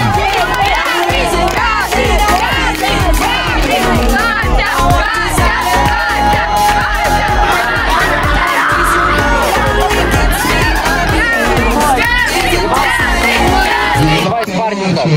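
Children at a summer camp cheer, whoop and shout loudly as a dense crowd, the excited din continuous and close throughout before fading abruptly at the very end.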